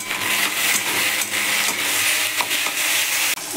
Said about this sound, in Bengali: টমেটোটা দিয়ে দিলাম, একটু গলে যাক।